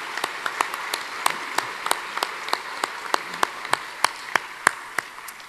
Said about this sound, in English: let's clap for them now in anticipation